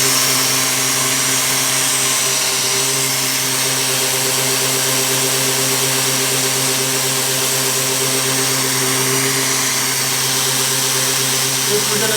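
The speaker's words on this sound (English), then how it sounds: "Power sanding on a lathe is killer" A wooden platter on a lathe is power sanded, giving a loud, continuous whirring drone with a steady motor hum and dense hiss that holds unbroken throughout.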